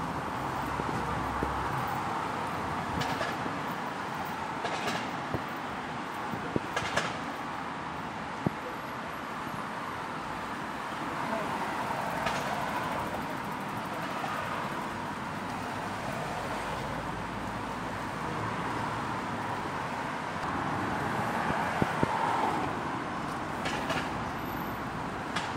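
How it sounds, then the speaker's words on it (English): Steady outdoor street ambience at a tram stop in Croydon with a low traffic rumble and scattered clanks and thuds, no talk, a constant urban wash for the whole stretch. "we are waiting for the tram to go to East Croydon"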